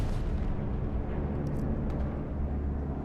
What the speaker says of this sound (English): No, bombing run. It's a bombing run.